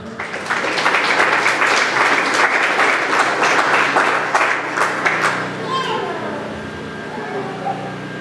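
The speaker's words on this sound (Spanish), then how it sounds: "fuertes aplausos al Señor" A congregation applauds in a charismatic church, loud rhythmic clapping that swells and holds for about six seconds before dying away into quiet murmuring and a faint voice.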